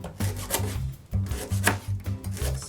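A knife chops lemongrass rhythmically on a cutting board, a series of quick, close thuds with brief pauses between bursts.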